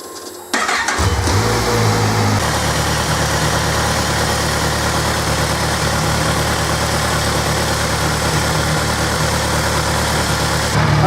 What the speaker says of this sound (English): all we need to do now is start the bike, run it up till the fan's cut in